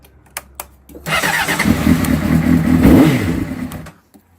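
A Honda CBR motorcycle engine cranks and starts on a newly cut key, the starter whirring into a loud, near idle with a brief rev for about three seconds, then shutting off, after a few faint clicks at the start.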